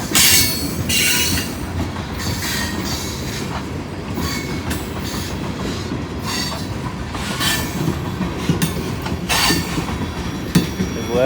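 Westbound loaded rock train hauled by GE locomotives through downtown Sardinia, Ohio, its cars rolling past close by with loud steady clatter, wheel squeal and rhythmic clicks over the rail joints.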